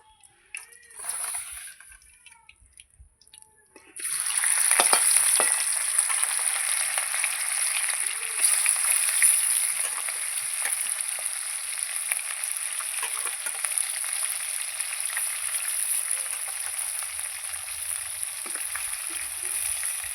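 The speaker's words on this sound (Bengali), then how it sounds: "এই তেলে আমি আবার মাছ দিয়ে দেবো" Fish dropped into hot oil, a quiet start followed by a sudden loud burst of sizzling and spattering that settles into a steady close frying hiss for the rest of the clip.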